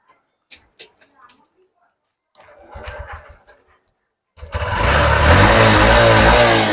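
A Honda SP Shine 125 motorcycle kicks into life after brief talk, its engine catching abruptly and then running loud and close with rising revs to the end.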